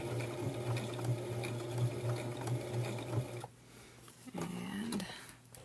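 A sewing machine stitches fabric for a baby hat and bib, its motor whirring steadily and close for about three and a half seconds before stopping, followed by quieter handling sounds.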